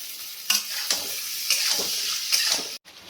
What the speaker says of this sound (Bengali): মোগলাইয়ের তরকারিটা বানানোর জন্য এই আলু দিয়ে দিলাম।